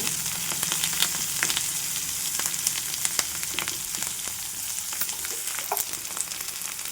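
Onion and green chilli pieces sizzle steadily in a hot pan, a dense continuous frying crackle with occasional spatter pops and light stirring, close and alone with no voices.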